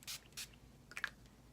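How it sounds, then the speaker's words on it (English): A makeup setting spray, Urban Decay brand, misted in two short, soft hissing bursts close by, followed by faint handling sounds, with no talking. "I'm using a setting spray."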